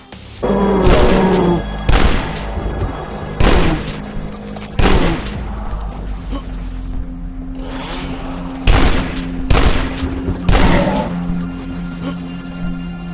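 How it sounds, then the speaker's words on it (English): Double-barreled Super Shotgun of metal and wood in the shooter game Dusk, both barrels firing at once: a series of loud, punchy booms spaced roughly a second or two apart, with mechanical handling sounds and a low steady hum between shots. "the classic Super Shotgun, a double-barreled beast of metal and wood that fires both barrels at once"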